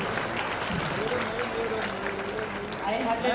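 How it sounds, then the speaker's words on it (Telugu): Sustained, unbroken clapping from a crowd of schoolchildren carries on at an even level, with a voice talking over it partway through. "అస్సలు ఆగదు, మీ క్లాప్స్ ప్రవాహం ఆగదు అసలు."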